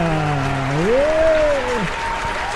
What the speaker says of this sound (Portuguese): Vamos aplaudir o Leandro, galera!